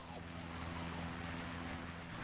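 An Osprey tiltrotor aircraft flies in ARMA 2 as a steady, low droning hum with a throbbing rotor tone, constant and moderately loud throughout.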